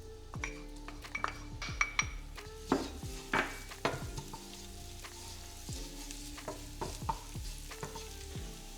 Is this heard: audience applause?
no